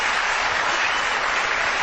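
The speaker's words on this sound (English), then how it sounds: "Give them a round of applause as well." A live studio audience at a Portsmouth ghost-hunting show bursts into dense, steady applause, a loud continuous wash of clapping that holds level for the whole stretch with no voices over it.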